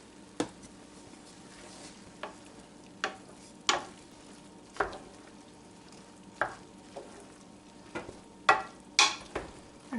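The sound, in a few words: folding heavy cream into bread cubes in a pan over low heat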